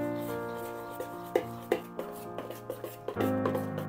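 Ground urad dal and rice idli batter is stirred by hand in a bowl, making soft, steady rhythmic taps and squelches beneath a constant background hum.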